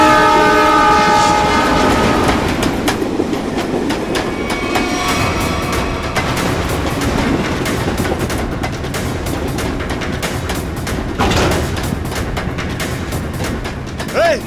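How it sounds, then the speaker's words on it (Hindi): A train pulls into a station, wheels clattering over rail joints with a horn sounding early on, loud and close throughout the roughly fourteen seconds, with faint voices in the mix. "ट्रेन 16 मिनट में स्टेशन पहुंच जाएगी।"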